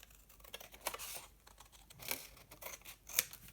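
Scissors cutting out a paper flap in a crafting project: a close, quiet run of snipping and crinkling paper sounds in irregular bursts, no talking.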